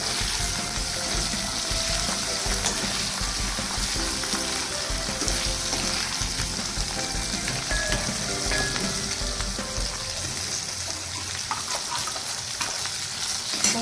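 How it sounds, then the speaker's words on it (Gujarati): Gunda gum berries with turmeric frying in oil over a low flame, a steady, close sizzle with faint stirring scrapes that holds evenly throughout, no voices. "હવે આપણે એને ધીમા તાપે તેલમાં ચડવા દઈએ।"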